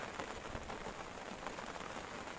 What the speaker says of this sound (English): You can hear the rain, it's splashing down.